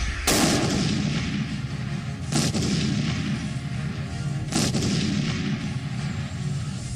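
Three heavy artillery blasts against military posts, a couple of seconds apart, boom out over a constant low roar of distant fire.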